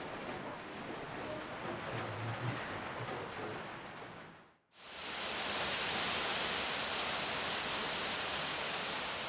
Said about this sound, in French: comme ici pour la cascade de Kiyomizugawa